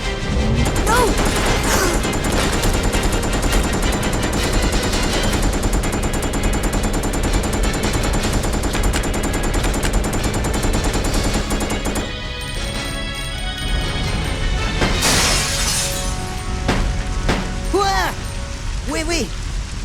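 Heavy automatic gunfire with crashing impacts in Resident Evil: Code Veronica X, a loud, relentless barrage over rain-like noise that thins out near the end, where scattered shots and a voice are heard.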